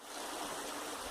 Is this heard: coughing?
no